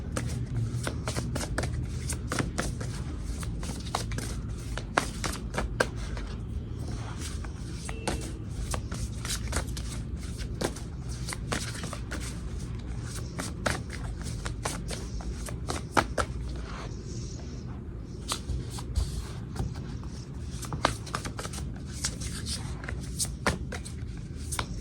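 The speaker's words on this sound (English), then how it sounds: "I'm gonna shuffle again." Tarot cards are shuffled by hand in a steady, continuous rustle with crisp, irregular flicks and riffles running throughout, close and fairly quiet, with no talking.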